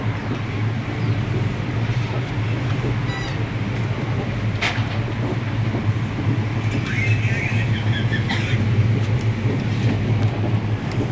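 Inside a moving train, a steady low rumble of wheels on rails holds throughout at moderate loudness, with faint rattles and a couple of brief clicks.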